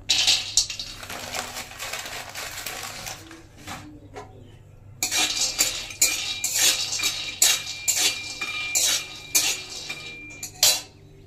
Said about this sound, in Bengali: বাদাম আর লঙ্কাটা খুব সুন্দরভাবে ভেজে নেব।